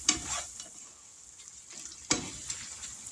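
Hamburger Helper Salisbury cooks in a pan, a faint sizzle and simmer with a couple of soft stirring scrapes, close and quiet with no voices.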